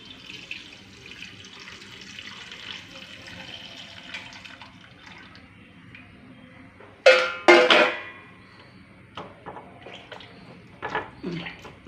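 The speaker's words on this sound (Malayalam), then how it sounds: "ഇതിൻ്റെ കൂടെ നമുക്ക് ശർക്കര പാനി അരച്ചത് അരിച്ചൊഴിച്ചു കൊടുക്കാം" Strained jaggery syrup pours into a pan of ripe plantain cooking in ghee, giving a couple of short, close splashing gushes after a quiet stretch of soft kitchen noise, followed by a few lighter trickles.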